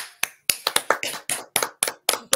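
Hands clapping in a short burst of about ten sharp, fairly regular claps, close and isolated with nothing else around them.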